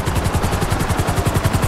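Helicopter in a video game, a steady, loud rotor chop with rapid, even thumping pulses under a continuous engine whine, sounding close throughout.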